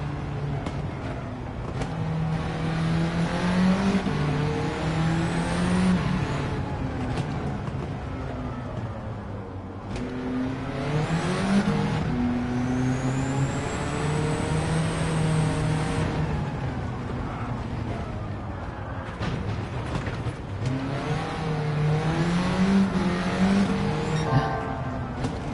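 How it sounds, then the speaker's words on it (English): Mini Cooper with a swapped engine in Gran Turismo 7 spinning its tyres, a loud steady engine roar that rises and falls in pitch through repeated revving surges, with faint tyre squeal on top and no talk. "He leaves all force feedback because we're just melting the tires"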